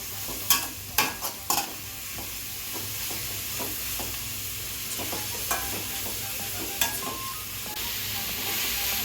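Ingredients for halwa roasting lightly in ghee in a pan, with a soft steady sizzle and a few sharp clinks and scrapes of a stirring spoon early on, then quieter occasional taps against the pan.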